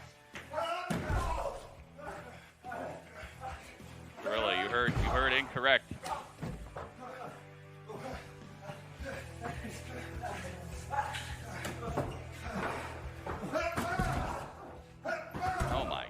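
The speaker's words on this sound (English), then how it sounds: "slamming him in the door" Wrestler slammed into a door during a WWE SmackDown broadcast, with loud slams and thuds at irregular intervals under almost constant excited talk from commentators and viewers.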